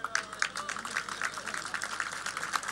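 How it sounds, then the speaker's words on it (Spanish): Audience applause at the inauguration of a memorial space at the former Libertad prison, a dense patter of claps filling the scene at moderate distance, with voices mixed underneath. "Aplaudimos."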